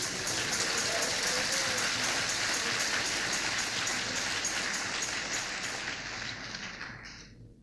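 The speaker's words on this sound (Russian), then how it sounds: "Дайте Богу аплодисмент." Congregation at a church pastors' seminar breaking into sustained applause, a dense, even clapping roar that holds steady and then tapers off toward the end.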